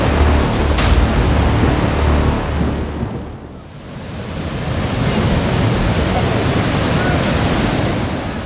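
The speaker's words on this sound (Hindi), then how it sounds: "पानी के शोर को सुनिए, जो शरीर में सिहरन पैदा करता है।" Roaring floodwater surging after a cloudburst in a flash-flood disaster, a loud, continuous broadband rush that dips briefly midway and then swells back, with no voices.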